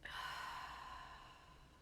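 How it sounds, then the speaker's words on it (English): A single slow, deep breath, soft and close, as air is drawn in and then released in a long, gently fading exhale, breathy and quiet with no talking. "Take another deep breath in and out."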